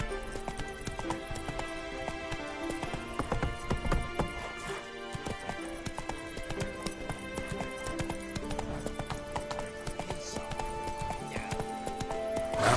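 Roach, a horse in The Witcher 3, trots with steady rhythmic clip-clop hoofbeats and brief whinnies, close and continuous across a busy game soundscape with music.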